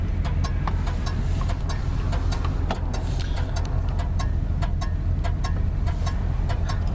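A 1974 Plymouth Valiant with a 318 engine and an exhaust leak near the Y-pipe runs steadily close by, a low rumbling idle broken by sharp ticking puffs from the leak, with no talking.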